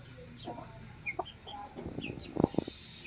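A chicken kept in a coop clucks in short, close bursts, building to a couple of louder calls near the end over faint background noise.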